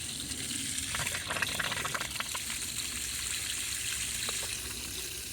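Water runs steadily from a garden hose reel after it is switched on by a voice assistant, a constant gushing hiss with faint trickling detail, holding an even level throughout with no talking.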